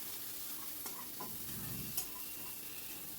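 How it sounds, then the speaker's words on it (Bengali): Onions frying in a pan with turmeric, chili powder and salt, stirred in a soft continuous sizzle with a few light utensil clinks, quiet and without speech. "একটু ফ্রাই করে নেব।"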